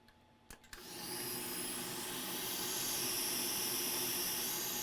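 Hot air blowing steadily onto a failed gaming laptop motherboard to lift off a chip, a continuous broadband hiss rising after a few brief clicks and holding loud and close.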